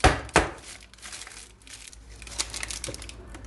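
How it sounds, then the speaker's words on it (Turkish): A cake pan filled with batter is knocked against a kitchen counter: two sharp thuds close together at the start, then a couple of lighter knocks, close and dry, with no voices. "İçerisindeki havasının çıkması ve daha düzgün durması için böyle birkaç kez tezgaha vuruyorum."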